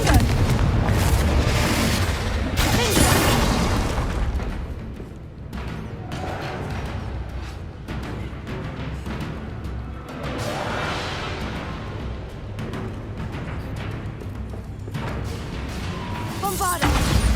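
Repeated Confringo fire-spell explosions from Hogwarts Legacy on PS5 Pro boom and crackle in quick succession. Dense, loud blasts and sizzling bursts keep arriving over a steady roar of battle ambience, with a voice briefly heard among them.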